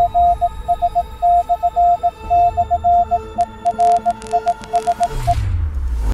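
Morse code message hidden in a promotional video: loud, steady beeping tones in dots and dashes over a deep throbbing music bed, continuing for several seconds before a low rumbling swell takes over.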